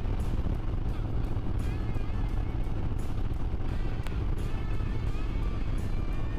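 A motorcycle engine turns about 2,700 RPM, heard from inside the rider's helmet while riding, as a loud, steady, dense roar mixed with wind rush that holds constant throughout.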